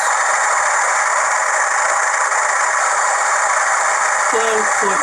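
A factory-weathered Bachmann Class 40 model locomotive with a TTS sound decoder plays its diesel engine sound at full revs, a loud, steady, buzzing drone through a small speaker, with a brief voice near the end.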